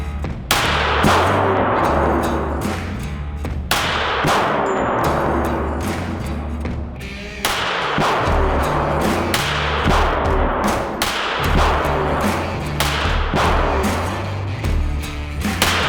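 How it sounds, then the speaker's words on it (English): A Smith & Wesson M&P Shield EZ .380 pistol fires a series of sharp, loud gunshots outdoors, about a dozen cracks spaced irregularly, each ringing briefly before the next. "Let's fire this thing a couple times."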